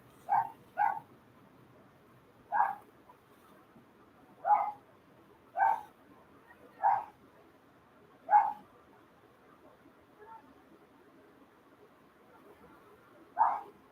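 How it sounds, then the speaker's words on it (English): Dog barking in a series of short, sharp barks, mostly single with a quick double near the start, spaced irregularly over a quiet background; no clear whimpering stands out. "Jerry, your dog is annoying."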